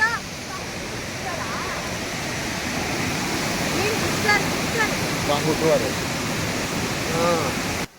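Rushing water at the Hogenakkal waterfall roars loud and unbroken, a dense constant wash of spray close by, with people's voices faintly audible beneath it.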